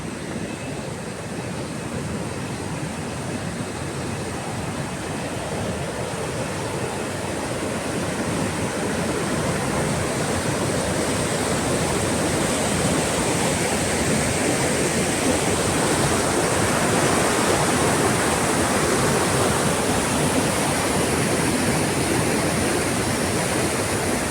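River water rushes steadily and loudly without pause, heard from midstream, a dense unbroken roar with no voices.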